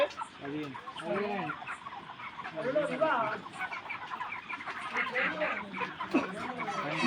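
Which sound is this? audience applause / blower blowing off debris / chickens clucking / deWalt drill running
chickens clucking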